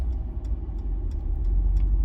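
A car drives the Ironman Louisville 70.3 run course through city streets, heard from inside as a steady low road-and-engine rumble with faint ticking above it and no talking.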